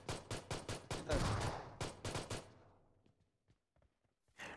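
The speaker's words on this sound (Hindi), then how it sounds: "देखिए मैं पिस्टल से इसको कैसे डाउन करता हूँ।" Rapid bursts of pistol gunshots in PUBG gameplay, a string of sharp, evenly spaced cracks followed by a brief pause, then a few faint distant shots and a final louder shot.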